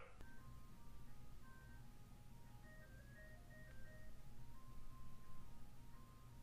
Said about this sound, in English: It's the ice cream truck.